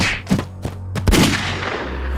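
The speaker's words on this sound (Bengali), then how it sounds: "নিশ্চয়ই কেউ গুলি ছুড়ল।" Gunshot sound effects from a Bengali detective audio drama ring out near a gate: several sharp, loud bangs in quick succession, with no talk over them.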